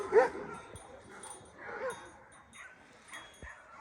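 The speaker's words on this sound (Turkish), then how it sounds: "Av köpekleri var." Several hunting dogs bark and yip at a distance, faint and scattered, mixed with whimpers and a soft ringing clink of bells.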